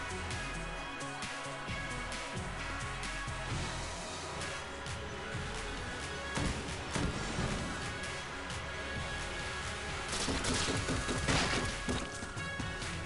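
In Enter the Gungeon, the Void Core Assault Rifle fires in rapid bursts of crunchy, crashing shots layered over busy game effects and a music bed, with louder impacts punching through near the middle and end.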